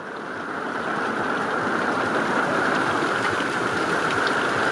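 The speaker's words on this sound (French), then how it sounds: "Là c'est une bonne pluie hein" Heavy rain pours down steadily on a vehicle, a dense, loud hiss that swells in the first second and then holds constant with no voices.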